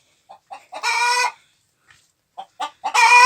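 Hens in a backyard coop cluck loudly in short bursts, two long squawking calls breaking through the choppy clucks, close by with no talking.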